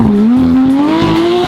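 A Porsche 991 GT3 RS's exhaust, with equal-length catless high-flow headers, blares loudly and close, a raspy, raw tone climbing steadily in pitch as the engine revs.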